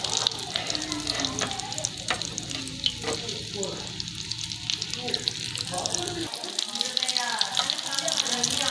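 Aloo tikki fry in a pan with steady, dense sizzling and crackling that carries loud and close throughout, with occasional soft scraping.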